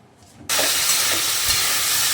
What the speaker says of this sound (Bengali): এদিকে আলু ভাজাটা হতে থাক